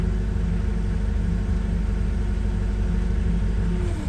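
A Toyota 02-8FGF20 gas forklift engine idles in a steady, loud, low rumble while its fork positioner shifts the forks, with no change in pitch and no talk.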